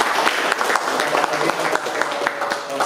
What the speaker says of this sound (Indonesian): semoga tepuk tangan lagi